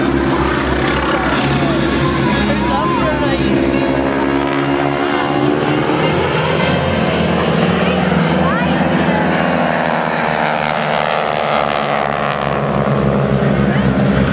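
The Breitling Wing Walkers biplane flies at an airshow, its propeller engine droning loud and continuous with a shifting pitch as it passes.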